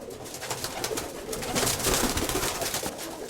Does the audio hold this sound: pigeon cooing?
yes